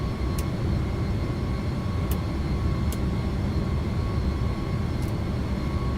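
A Boeing 757-200F freighter in the X-Plane 12 flight simulator roars steadily on its takeoff run, a constant loud broadband engine rumble with faint brief clicks and no talk.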